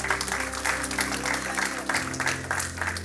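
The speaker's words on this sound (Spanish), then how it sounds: "pueden darle un aplauso al Señor" Church congregation clapping together during a service, a steady crowd applause at moderate level with a sustained musical tone running underneath.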